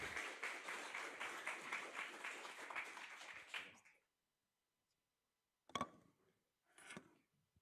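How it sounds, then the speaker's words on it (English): An audience at a university game jam applauding a team, dense clapping for about four seconds before it cuts off, followed by a couple of brief isolated sounds after a silence. "Big round of applause for them."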